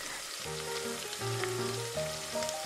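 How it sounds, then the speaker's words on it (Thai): Onion is fried in a pan in a toy kitchen set during make-believe spaghetti cooking, a steady close sizzling hiss running continuously beneath soft tonal background music. "เรามาเริ่มลงกระทะกันเลยจ้าผัดหอมใหญ่ลงไปก่อน"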